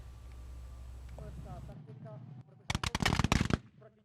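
A rapid volley of loud, sharp gunshots at a Napoleonic Battle of Austerlitz reenactment crackles in a dense cluster after a quieter stretch with faint voices and background rumble.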